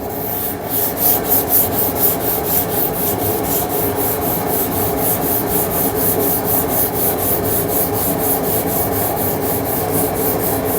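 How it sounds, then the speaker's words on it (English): Steady back-and-forth rubbing of 400-grit sandpaper over a painted wooden subwoofer box, a fast even rhythm of close, fairly loud strokes running throughout with no talking. "This is a 400 grit sandpaper. It's doing a bit of work, not too much."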